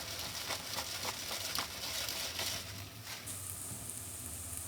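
Vegetables sautéing in a pan for a Cuban dish, a faint steady sizzle with a few soft scrapes from occasional stirring, quieter and more even in the last part.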